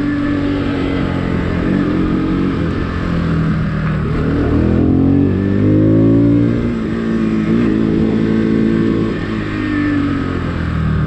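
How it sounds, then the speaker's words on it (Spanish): A Bajaj Pulsar NS 200 FI 2022 motorcycle engine runs close and loud with a deep, gruff tone, rising and falling in several revs over a steady idle. "esta moto suena muy ronco"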